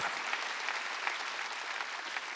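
A congregation claps together during a Sunday worship service in church, a steady, even wash of applause at moderate distance with no one speaking over it.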